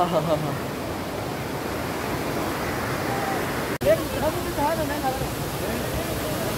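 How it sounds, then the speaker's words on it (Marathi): Water rushes continuously from a waterfall in the Konkan region, a broad, roaring wash, a steady cascade filling the scene with a brief sharp click midway. "हा आवाज, सुंदर आवाज, पाण्याचा जो खळखळाट आहे."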